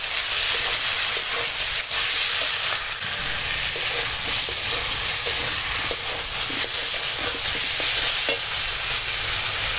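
Kashmiri chilli powder, hot chilli powder, turmeric and salt stir-fried in a pan, with a steady loud sizzle and repeated scraping strokes of a spatula running throughout, no voices.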